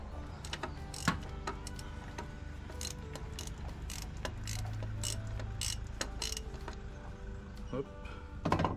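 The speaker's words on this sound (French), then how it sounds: "on se défait le boulon de l'alternateur" A ratchet works the alternator bolt on a Fiat 131 Abarth, giving scattered clicks and short metallic ticks at close range, with quiet speech and workshop clatter around them.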